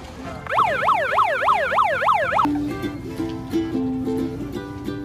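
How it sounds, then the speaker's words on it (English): Siren sound effect, a loud rapid wailing yelp cycling up and down, abruptly switching to a lower two-tone hi-lo pattern. "You ever hear about the siren that plays when it's near cute people?"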